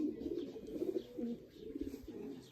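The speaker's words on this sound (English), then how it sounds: "And look, Mila, look at the pigeons." Pigeons coo softly and repeatedly in a rural village of Monte on Pico Island in the Azores, a steady murmuring chorus at moderate distance with faint background noise.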